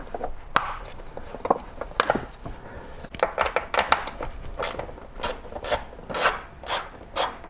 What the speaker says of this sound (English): we have a trim piece right back here that we're going to have to get out of the way